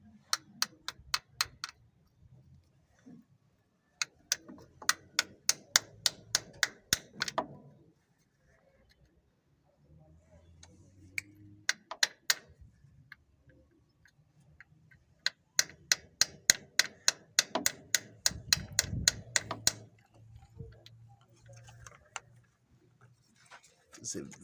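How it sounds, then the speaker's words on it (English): Quick runs of sharp metallic hammer taps knock a core plug into an Ebro 6090 tractor engine, in several bursts separated by pauses with low background rumble. "just with an hammer and knock it into position."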